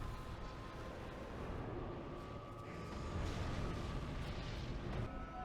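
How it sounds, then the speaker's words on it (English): A rumbling blast from a Dark Souls 3 game fills the scene with a dense, continuous roar that swells slightly partway through, loud and unbroken. "I just forgot how quickly the explosion happens."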